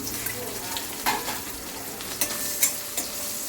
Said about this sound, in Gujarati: અને કેબેજ બધું થોડું તમે જોઈ રહ્યા છો. આપણે એને 2 મિનિટ માટે સોતળ્યું છે